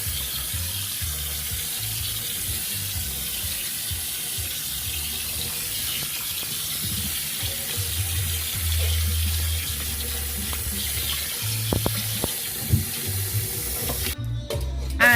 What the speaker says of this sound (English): drain the hot water from the pasta and then run it under some cold water to stop the pasta from cooking